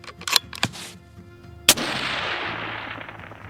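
A Remington 700 chambered in .223 fires a single sharp, loud shot at a long-distance range, followed by a rolling echo that decays slowly, with a few small clicks of handling beforehand.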